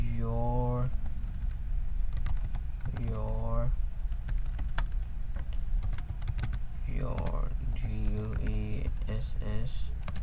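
Quick clicks of a computer keyboard being typed on while entering Python code, with speech coming in at intervals over the typing.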